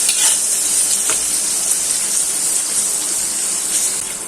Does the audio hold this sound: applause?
no